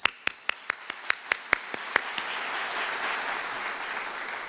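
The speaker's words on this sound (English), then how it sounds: "Let's all give a round of applause to our sponsors" Audience at a Martin Luther King Jr. tribute at Wayne State University clapping for sponsors, a few sharp separate claps at first that swell into a soft, sustained wash of applause.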